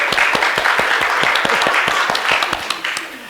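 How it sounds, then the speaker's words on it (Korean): Congregation in a church clapping along during a bilingual sermon, loud close hand claps that are rhythmic and fairly unified, tapering off near the end. "박수 한번 해주세요."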